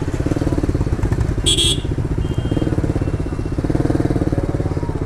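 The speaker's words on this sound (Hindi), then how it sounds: "बाइक वार्म अप पूरा हो चुकी है और पटाखा अभी से ही मारना स्टार्ट कर दिया बाइक ने" A motorcycle rides through traffic after warming up, its engine droning loudly and steadily throughout, with one short sharp crackling pop partway through like an exhaust backfire.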